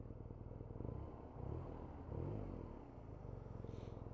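A 2017 BMW R nineT boxer twin idles and burbles through its exhaust at low volume, a steady, throbbing rumble with a slight rise in revs partway through and no talking.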